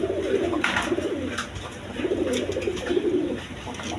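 Male pigeons coo in repeated low, rolling phrases close to the microphone, with faint rustling and no talk.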